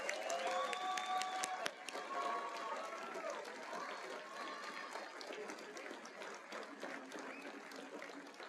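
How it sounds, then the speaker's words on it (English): Audience applause and some cheering for bachelor degree graduates at a college commencement, a broad crowd of clapping with scattered whoops and voices mixed in, gradually easing. "please give another round of applause for all 2022 bachelor degree recipients"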